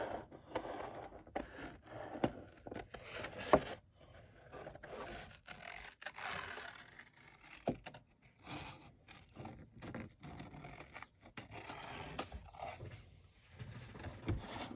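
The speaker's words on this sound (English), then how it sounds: "we can just fussy cut around this" Scissors fussy cutting around a thick watercolor paper flower, faint close snips and paper scrapes in an irregular rhythm, with quiet rustling between cuts.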